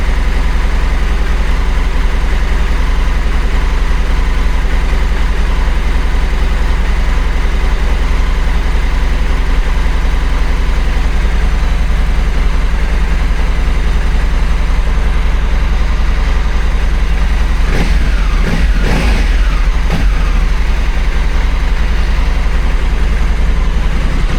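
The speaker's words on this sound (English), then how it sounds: "I gave it a little rev" Honda African Twin CRF1100L motorcycle engine idling with a loud, steady low rumble close by, joined near the end by a brief burst of revving.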